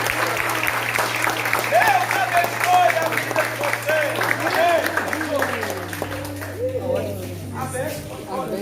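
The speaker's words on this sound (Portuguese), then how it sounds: "E os que podem, aplaudem ao Senhor." Sustained applause from a crowd at a church water baptism service fills the space, steady clapping going on while a voice speaks over it.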